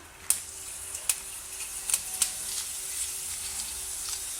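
Fenugreek seeds hit hot oil and sizzle with a soft hiss and a few sharp pops close by, brief and quiet, with no talking.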